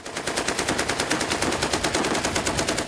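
Rapid bursts of automatic gunfire crackle in a fast, continuous rhythm during street fighting in Sirte, Libya, sharp and fairly close, with no other sounds.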